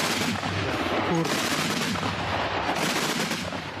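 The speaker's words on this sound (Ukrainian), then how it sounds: "зараз працює артилерія" Dense, continuous rumbling gunfire and booming artillery fill the air, a constant loud barrage with no pauses, heard from some distance.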